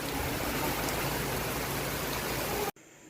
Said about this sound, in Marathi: पावसानं बऱ्यापैकी जोर पकडला